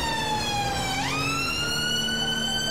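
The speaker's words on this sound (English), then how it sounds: "I know I've got my lights and sirens on" A police car siren in the FiveM mod of GTA V wails loud and close, a steady electronic tone that sweeps upward midway and holds, with no talking over it.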